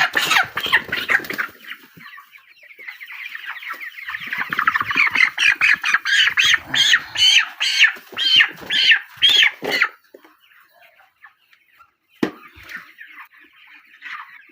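Chickens on a poultry farm squawk and cluck loudly while being caught by hand, a dense flurry of calls building to rhythmic repeated squawks, then dropping to near quiet with one sharp knock.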